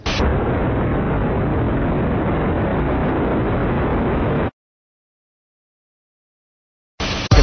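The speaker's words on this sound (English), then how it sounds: "we just heard one more explosion" A loud, sustained roaring blast of broadband noise lasting several seconds, then abrupt silence before another burst begins.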